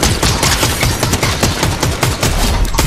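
Rapid automatic gunfire in a Fortnite battle, dense loud bursts of shots firing continuously and close, with no speech.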